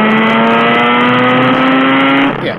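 A Mazda RX-8 rotary engine revs loud and close, a sustained high droning tone held steady for about two seconds before dropping off, captured on a GoPro microphone with no talking.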